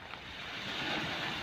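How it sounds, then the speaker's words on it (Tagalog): Strong waves wash against the Manila Bay seawall after a storm, a continuous broadband surf roar with wind noise on the microphone, steady and fairly close, with no voices. "Medyo malakas-lakas pa rin yung alon guys."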